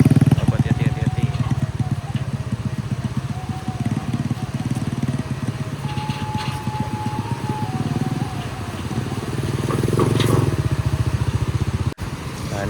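A motorcycle engine drones steadily as it crosses an emergency bridge in Pessel, a continuous mid-level motor hum lasting throughout with a brief sharp knock near the end and people talking over it.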